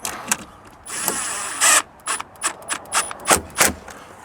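An impact wrench fastens the nuts on a tow mirror being mounted to a Ford F150, firing in a string of short, loud mechanical bursts separated by brief pauses.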